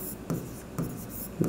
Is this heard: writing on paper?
yes